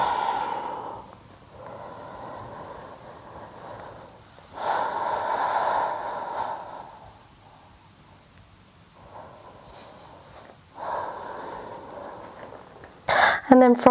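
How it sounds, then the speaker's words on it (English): Deep, slow breaths taken while holding a yoga pose during a vinyasa flow, audible as long, soft inhales and exhales close to the microphone, with a brief rustle at the end. "And take a few deep breaths here."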